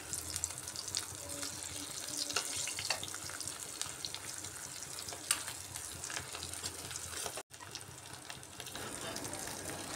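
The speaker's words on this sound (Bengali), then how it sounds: "আলুটাকে একটু সময় উল্টে পাল্টে ভেজে নেব।" Potatoes fry in oil while being turned and stirred, a soft but steady sizzle broken by scraping touches and one brief dip, with faint voice-like sounds in the background.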